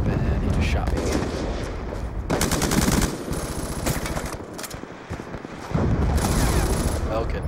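Automatic gunfire in the Black Ops 2 video game, with dense rapid bursts of shots and explosive booms filling the clip continuously, loud and close throughout.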